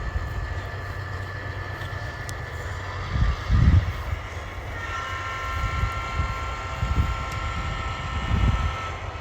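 A freight train rumbles heavily out of town, a long low rolling drone with steady wheel noise, occasional louder bumps and faint high squeals, heard at moderate distance with wind buffeting the microphone.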